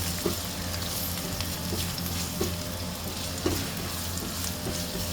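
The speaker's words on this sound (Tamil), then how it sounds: "வெங்காயத்தை போட்டு நல்லா கொஞ்சம் இதான கலரில் வதக்கணும்" Onions sautéing in a pan make a loud, dense sizzle and crackle, with periodic scraping strokes of a stirring spoon; no voices.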